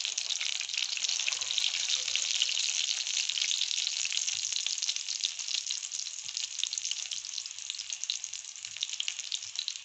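Rice chapli kababs frying in oil on low heat, giving a steady, even sizzle with a soft crackle that carries on without a break.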